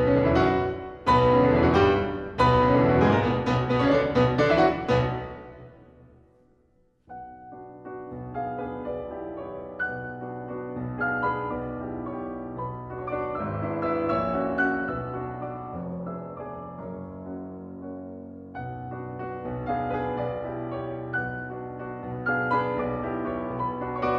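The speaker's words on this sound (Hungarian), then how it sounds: "hallgassátok meg Mihály Ivanovics Glinka keringő fantáziáját" An orchestral recording of Glinka's Waltz Fantasy opens with a loud, dense full-orchestra passage that fades to a brief pause, then continues more softly with a lilting waltz melody over sustained strings, with no voices.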